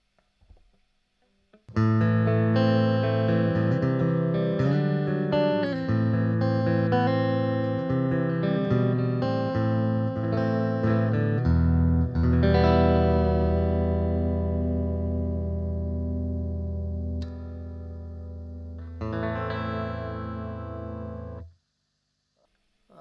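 An electric guitar plays clean chords and picked notes through a small Eastcoast EC 30GR amplifier, gain down, reverb off, ringing out steadily, then a final chord sustains and cuts off.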